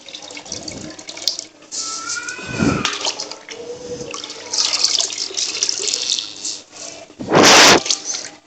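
Soaked rice is poured into boiling water in a large cooking pot, giving close, loud bursts of splashing and pouring amid bubbling and clattering.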